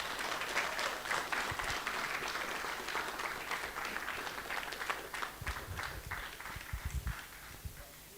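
Applause from the audience at a launch ceremony, sustained clapping that thins toward the end into scattered, louder individual claps, heard from within the crowd without speech.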